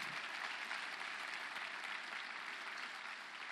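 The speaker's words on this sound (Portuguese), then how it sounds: "Vamos aplaudir o Senhor nesta noite" A church congregation applauding steadily during an evening service, a dense wash of clapping that holds even throughout, heard from some distance.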